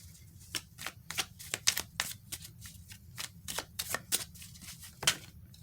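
Deck of tarot cards being shuffled and drawn, a fast irregular series of crisp papery riffles and flicks close up, fairly quiet with no voice over it.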